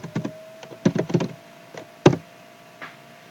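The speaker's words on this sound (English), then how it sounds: "If I type over here, rent apartment," Several sharp key clicks from typing on a computer keyboard while searching a rental listings site for apartments, arriving in short irregular bursts with pauses between, close and fairly quiet.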